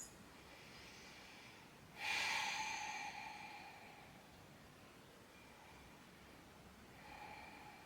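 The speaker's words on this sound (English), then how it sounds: "Take a couple of breaths." Slow breathing during a Pilates stretch, faint and close, with one sharper audible breath in the middle and a softer one near the end.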